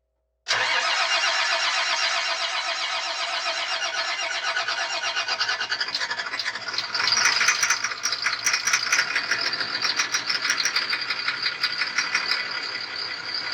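A Cat C7 diesel engine cranks and fires after a fuel filter replacement, then settles into a loud, rattling, steady idle close by, with no voices over it.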